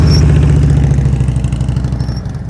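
A motorcycle engine idles loud and close with a steady low throbbing pulse during slow-speed riding practice, with no talk over it.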